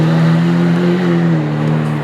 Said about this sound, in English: 2015 Lamborghini Aventador Roadster.